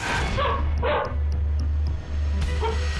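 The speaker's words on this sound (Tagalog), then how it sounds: "narinig ko na tumahol si Buddy." A small dog barks a few sharp, high yips close by, over a steady low hum, during an earthquake in Cebu.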